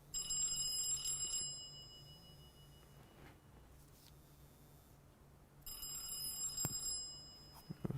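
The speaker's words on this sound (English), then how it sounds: "Phone call." A telephone ringing with an incoming call during a MacBook repair, two bursts of electronic trilling ring separated by a quiet pause, moderately loud and nearby with no talking.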